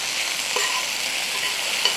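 Masala spices fry in a pan on a medium flame, giving a soft, steady sizzle with a couple of faint scraping stirs, with no voices.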